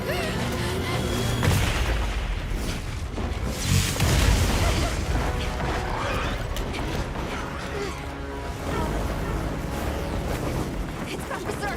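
Gunfire aimed at Rey Dau in Monster Hunter Wilds, with repeated booming shots and mechanical clatter over a dense, loud battle din, partly under talk.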